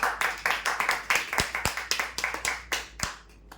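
Applause for prize winners at a lucky-draw ceremony: a crowd clapping steadily with dense overlapping claps, thinning toward the end with a few last isolated claps.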